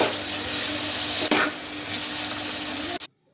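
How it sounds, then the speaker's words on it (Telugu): Pieces of nalleru stalk and coriander seeds fry in oil, a steady close crackling sizzle with one sharp clink partway through. The sound then cuts off abruptly into silence. "ముక్కలు బ్రౌన్ కలర్లో వచ్చే వరకు ఫ్రై చేసుకోవాలి"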